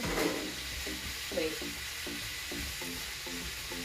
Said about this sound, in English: We're gonna saute the onions